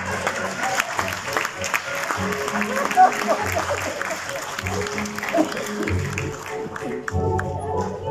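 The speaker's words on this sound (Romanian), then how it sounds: "Spectacolul s-a încheiat într-un ropot de aplauze și o tradițională periniță." Theatre audience applause after a Shakespeare evening performance, steady clapping throughout with a narrator's voice talking over it.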